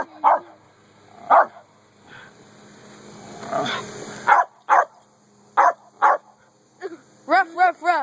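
A dog barks in short, sharp, loud bursts, with a few higher yelping barks toward the end, at a guy with a lawn mower; a voice comes in between the barks.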